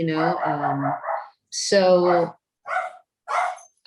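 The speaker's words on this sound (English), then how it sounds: "sorry about the dog." A dog barks nearby, loud and close, in three or four separate sharp barks and yips with short pauses between them. A person speaks briefly at the start.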